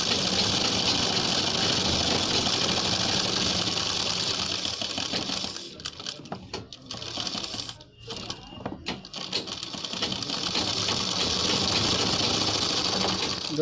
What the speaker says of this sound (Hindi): तो बुकरम से दोस्तों हम 1 पॉइंट सिर्फ सिलाई दूर चला रहे हैं।